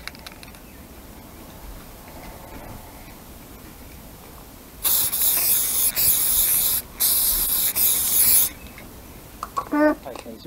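Spray paint hisses from an aerosol can in two long bursts, each broken by brief pauses, loud and close over quiet room noise, followed by a few soft clatters.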